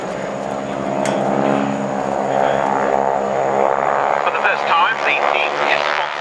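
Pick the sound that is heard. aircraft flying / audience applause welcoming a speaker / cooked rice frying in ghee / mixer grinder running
aircraft flying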